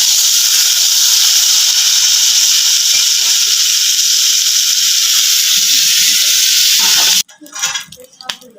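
Vegetables frying in hot oil give a steady, loud broadband sizzle that runs for about seven seconds, then cuts off abruptly, followed by a brief burst of louder crackling and clatter.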